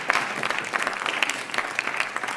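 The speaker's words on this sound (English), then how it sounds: "show gratitude and love for Mr. Tooley by giving him a big round of applause for his hard work" A crowd at a writers expo gives Mr. Tooley a round of applause, brisk, dense clapping from a modest audience, close and lively across the whole stretch.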